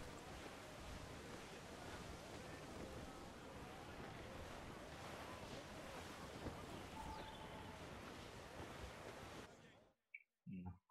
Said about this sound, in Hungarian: A hullámok se olyan vészesek.